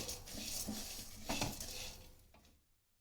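Urad dal frying in oil over a medium flame, a close hiss with spoon scrapes and stirring taps against the pan that fade out near the end, with no talking.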